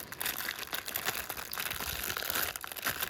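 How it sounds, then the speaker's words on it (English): Plastic packaging for an Apple Watch solo loop band crinkles and tears as it is ripped open by hand, a close, continuous rustling with a few sharper crunchy bursts. "I might see if I can just rip it, to be honest."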